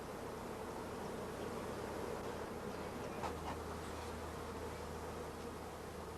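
Honeybees swarm over brood and food frames while a three-frame nucleus colony is formed, making a dense, continuous buzzing hum that fills the air evenly and close by, with no voices.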